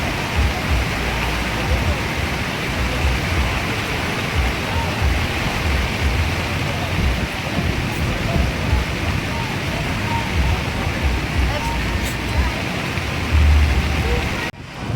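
Rain falls steadily outside, a dense, even hiss of drops that holds for the whole stretch, with faint voices underneath.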